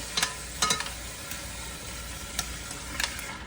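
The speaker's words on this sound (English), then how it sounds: "I went ahead and put my meat in here. Y'all can hear it sizzling." Chicken sizzles steadily in hot grease, a constant crackling hiss broken by a few sharp clinks of stirring.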